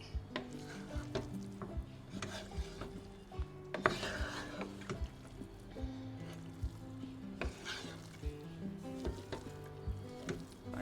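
A spoon scrapes and stirs through Kerala prawn biryani in a pot, with soft repeated scraping and knocks against the metal under a low hiss of background music.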